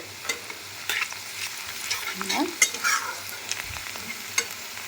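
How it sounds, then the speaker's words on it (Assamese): Onions with turmeric and chili powder fry in a pan, giving a soft, uneven sizzle with scattered scrapes and stirring clicks, fairly quiet and without voices. "এয়া মোৰ পিঁয়াজখিনি ভাজা হৈ গৈছে অলৰেডি মানে ৰঙচুৱা হৈ গ'ল"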